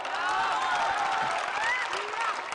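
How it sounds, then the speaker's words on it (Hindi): Dense crowd applause fills a political rally in Bihar, a continuous loud wash of clapping with faint voices mixed in, heard alone without speech over it. "अब बजा लो ताली जितना बजावे के बाद"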